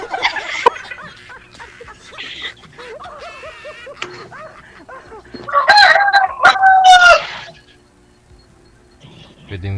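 A rooster at a Filipino farm crows loudly and close in a long, wavering call near the middle, with hens clucking before it and people talking around it.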